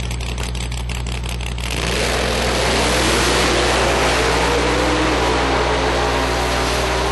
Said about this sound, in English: That Camaro's on a pass.